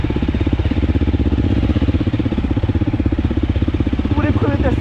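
Nearby motorcycle engine at a sand training camp, chugging with a rapid, steady rhythmic pulse, with a voice heard over it and a short whistle-like sound near the end.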